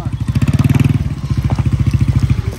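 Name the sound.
shepherd's motorcycle engine running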